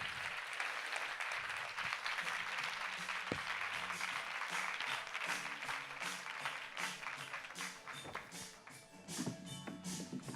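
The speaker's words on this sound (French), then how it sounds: "Mesdemoiselles, on les applaudit." A crowd applauds steadily, a soft continuous patter of many hands clapping, heard from some distance.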